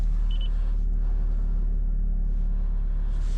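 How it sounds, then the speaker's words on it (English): A 2021 Toyota Corolla idling steadily just after being started, a constant low engine rumble throughout with a brief electronic chime near the start. "It's actually initializing because I just turned the car on."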